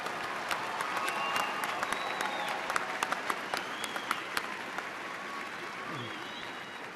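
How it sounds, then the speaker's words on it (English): A large audience at a Virginia Tech fall commencement applauds business graduates. Steady, sustained clapping from a big crowd fills the hall, with individual claps and a few faint voices breaking through the wash. "Let's give a round of applause to the candidates from the Pamplin College of Business."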